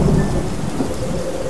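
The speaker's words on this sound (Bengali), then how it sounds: "কিছুক্ষণ ধরে প্রবল বৃষ্টি হলো, মেঠো পথ জলে জলে ভেসে গেল" Heavy rain pours steadily on a rural dirt path, with thunder rumbling low and loud beneath the dense downpour.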